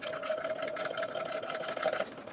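A sewing machine runs a steady stitch across the edges of a single piece of fabric, a continuous close mechanical hum with a light rattle, no talking.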